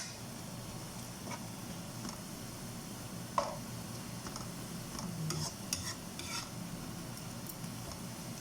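Chicken frying in a pan for Arabic chicken kabsa, a steady low sizzle with scraping stirring strokes and occasional light clinks of a utensil against the pan, close and fairly quiet.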